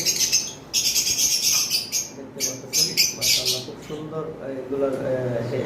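Pet lovebirds for sale chirp and squawk in a run of bright, shrill calls that come in bursts, fairly close and loud over a constant background hum, with people talking faintly underneath.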